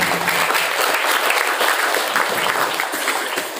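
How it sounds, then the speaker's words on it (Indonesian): A crowd of new students at an Islamic boarding school motivational session bursts into loud, steady applause, a thick continuous clatter of many hands that holds throughout and tapers slightly at the end. "Tepuk tangan untuk kita semuanya hari ini."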